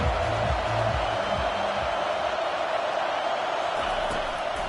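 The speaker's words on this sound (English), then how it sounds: "This crowd bringing the energy and noise early." Stadium crowd at a football game makes a steady, dense roar of many voices, loud and continuous, with a commentator speaking over it.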